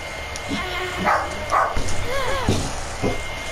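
Dogs yip and bark in short, scattered bursts over a few seconds, mid-distance and fairly loud, mixed with a voice and other background noise.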